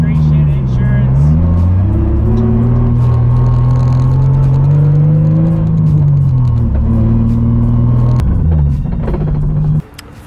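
A Z car drives on a public street, its engine droning and surging through gentle rises and falls in pitch before the sound cuts off abruptly at the end.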